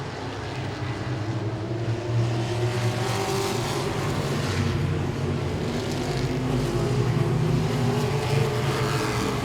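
Modified race cars roar around Langley Speedway in a dense, continuous engine drone, with pack noise swelling as cars run side by side.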